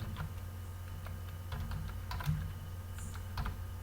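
Keys clack on a computer keyboard during Python coding, with a handful of sharp, separate taps and a final Enter press over a steady low hum. No one speaks.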